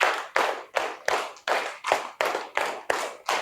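Elementary classroom pupils clap together in a steady counted pattern, about nine loud unison claps roughly two-fifths of a second apart, close and crisp with brief decays and no talking.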